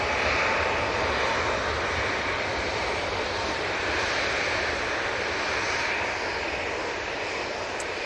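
Jet engines on an Airbus A321neo spool up at Manchester Airport, a loud, steady broadband roar that holds evenly throughout, heard from a distance with no talking.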